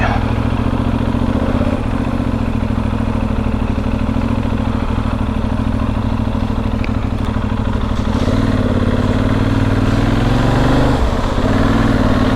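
Benelli Leoncino 800 Trail motorcycle engine while riding: a steady, loud, close engine drone with a faint pitch shift partway through, with no talk over it.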